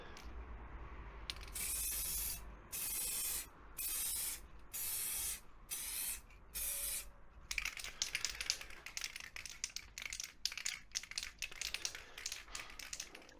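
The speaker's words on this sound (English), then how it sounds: "Constantly shaking it to make sure it's mixed up, and we'll give it another quick coat." Someone sprays a quick coat of paint from an aerosol can on a Beta Alp winter upgrade job. The hiss comes in six short, even bursts, and then rapid rattling and crackling bursts follow. It is fairly quiet and there is no talking.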